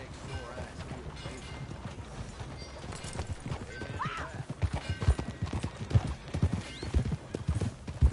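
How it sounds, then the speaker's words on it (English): A horse in the Red Dead Redemption 2 video game walks with steady, close clip-clopping hooves that grow louder toward the end, along with a brief whinny and quiet talking in the background. "That a new horse?"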